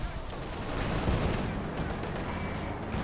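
Panzer IV main gun and pintle-mounted machine gun firing in Company of Heroes 2, a continuous dense roar of battle gunfire with overlapping shots and blasts, loud and sustained throughout.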